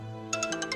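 A phone rings for an incoming call, a short run of repeated bright electronic tones beginning partway through and sounding close and moderately loud.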